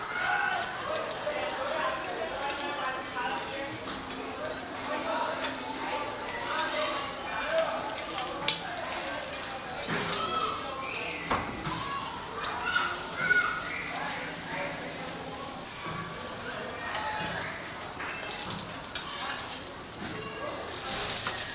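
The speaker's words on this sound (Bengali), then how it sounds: "এই পরোটাটা আমি এর মধ্যে বসিয়ে দিচ্ছি, দিয়ে এবারে ভালো করে এটাকে ভেজে নেব তেলে" A paratha sizzles and fries steadily in hot oil in a pan for an egg chicken roll, a continuous crackling hiss under a voice speaking throughout.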